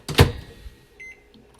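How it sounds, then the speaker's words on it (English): Microwave oven drying crushed rosemary and sage: a sharp thump or click at the start, then a faint hum with a couple of soft beeps near the end. "that's rosemary and sage that I'm drying in the microwave"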